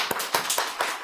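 A church congregation at a Christmas celebration service claps together in a loud, steady burst of applause filling the room.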